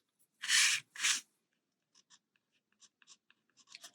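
A pen draws a Zentangle pattern on paper close up, starting with two long scratchy strokes and followed by a series of short, quiet ticks and dabs in near silence.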